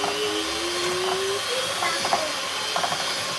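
An electric mixer whirs steadily, beating strawberry buttercream with a continuous close hum and a faint rising whine.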